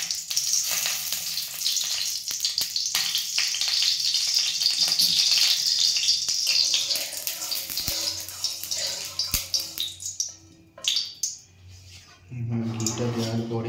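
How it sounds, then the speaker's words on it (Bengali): Cooked rice frying in ghee in a kadai, a loud bright sizzle for several seconds that fades away, followed by brief rattles and a short voice near the end. "এবার কড়াতে মা দিয়ে দিচ্ছে ঘি, ঘিতেই আমরা ভেজে নেব ভাতটাকে।"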